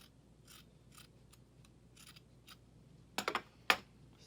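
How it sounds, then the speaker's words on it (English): Scissors snip the curved neckline edge of a handmade rococo cosplay dress vest, a few soft cuts early on and then two sharper, louder clusters of snips near the end, close and alone in a quiet room. "I'm just going to snip like a tiny bit off of here."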